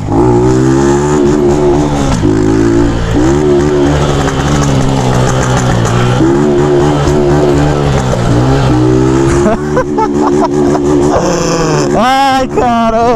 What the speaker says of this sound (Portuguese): Será que esse motor vai aguentar